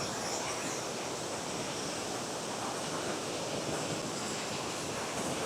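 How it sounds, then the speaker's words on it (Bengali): The Indreni waterfall and flowing stream water in the hills roar as a loud, constant, broadband rush with no breaks, with no voices. "আর এই পাহাড়ের কোল থেকে বয়ে আসছে এই সুন্দর ওয়াটারফলস"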